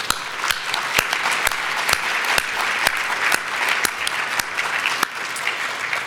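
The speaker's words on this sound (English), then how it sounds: "So one more round of applause for all of our Titan Award winners." Audience applause for award winners at the closing session of a symposium, a steady, dense wash of clapping from a large crowd that holds loud throughout, with a few sharper individual claps standing out.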